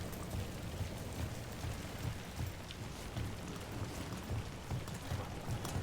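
Steady rain falls in the video game Dragon Age: The Veilguard, a constant dense patter and hiss on surfaces that holds an even level throughout, with no one speaking.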